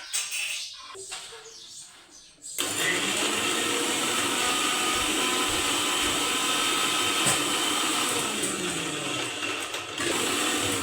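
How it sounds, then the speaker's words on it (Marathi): A kitchen mixer grinds green chili, garlic and sambar into a paste, starting with a few short bursts of rattling and then settling into a loud, steady whirring motor drone with a brief pause near the end. "आता हिरवी मिरची लसण सांबार याची पेस्ट आणि नंतर मक्का पण काढायचा आहे मिक्सरमधून"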